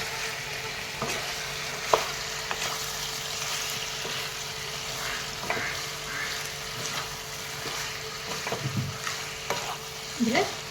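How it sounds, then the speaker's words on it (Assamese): Chicken with cumin and chilli powder sizzles in a frying pan as a spoon stirs it, a steady fry hiss with repeated scraping strokes and a few louder clacks against the pan. "এইখিনি মিলে অলপ কৰি এফালৰ পৰা লৰাই যাম।"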